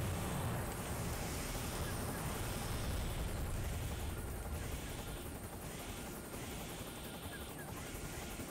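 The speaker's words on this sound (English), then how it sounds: "The helicopter planes, whatever you want to call them." A helicopter from the Armored Core 2 and 3 games flies nearby with a steady, loud broadband whir and rotor rumble that holds evenly throughout.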